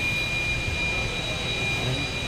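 Idling engine of a 2011 Toyota Avanza with an oil filter housing leak, a steady close hum with a constant high whine running through it and no break.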